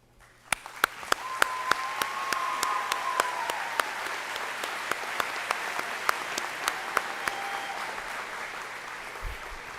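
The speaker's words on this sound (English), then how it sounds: "a round of applause" Audience at a community college graduation ceremony applauds, a steady moderate wash of clapping with sharp, regularly spaced louder claps from nearby hands and a faint tonal hum underneath.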